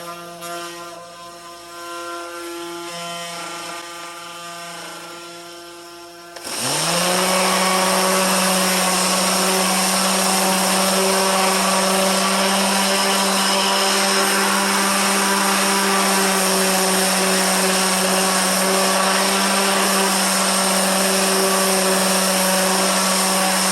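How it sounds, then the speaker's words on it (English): An electric sander runs on a wooden Halloween lantern box. A loud, steady motor whine with a strong hum starts after a few quiet seconds of lower machine noise and holds evenly to the end. "And then we'll sand it."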